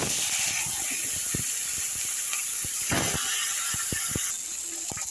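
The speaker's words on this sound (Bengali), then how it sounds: "এখন আমি এই তেলটার ভেতরে মাছের মাথাগুলো দিয়ে দিচ্ছি ভাজা দিয়ে।" Fish heads frying in hot oil in a home kitchen, with a steady loud hiss and sharp spattering pops and crackles scattered throughout, close up with no talking.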